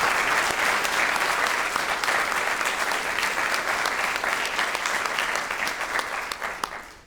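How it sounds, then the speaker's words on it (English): A graduation ceremony crowd gives a long, dense round of applause. The sustained clapping holds steady, then thins and fades out near the end. "I think we should probably give them a round of applause."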